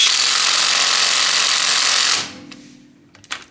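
A Parkside Performance PDSSAP 20 B2 cordless impact driver drives a nut on a bolt, giving a loud, close, steady hammering whir for about two seconds that then winds down, followed by a few faint clanks and clicks.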